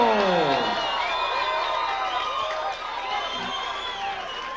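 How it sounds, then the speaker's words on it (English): A boxing arena crowd in a hotel ballroom at the DoubleTree Orlando cheers, whoops and applauds loudly for a main event fighter, with whistles and shouts rising over a dense roar that eases slightly near the end. "Well, Bob, clearly a Macho Camacho crowd here in the beautiful DoubleTree, Orlando."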